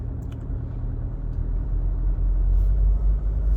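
A Chevrolet Captiva 2.2 diesel 4x4 with automatic transmission rumbles steadily at close range, the low drone building slightly as it pulls away, with no voices.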